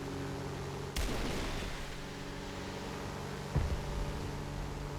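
A rocket strike bursts in a Star Wars dogfighting game, two sharp explosive blasts a couple of seconds apart, cutting through a dense, continuous rumble of engine and battle noise, with no speech.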